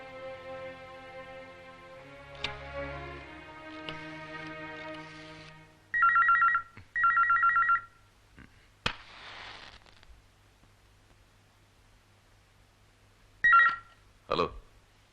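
A telephone rings in short repeated bursts of electronic tone, loud and close, after a stretch of soft background music, with a couple of sharp clicks between the rings.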